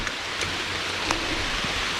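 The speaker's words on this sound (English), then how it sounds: "it's kind of a light downpour right now" Light rain falling in the woods, a steady soft hiss of drops pattering on leaves and ground, close and continuous with no voices.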